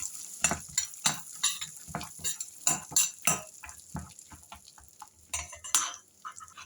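Walnuts being stirred together with a salad in a hot pan give a series of close, irregular scrapes and clinks of a spoon on metal over a soft sizzle. The strokes come in a loose rhythm and no one speaks.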